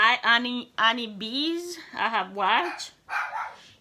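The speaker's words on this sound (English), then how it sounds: "excuse my dog" A pet dog barks and yips in a run of sharp, high, bright barks at close range, overlapping a voice talking.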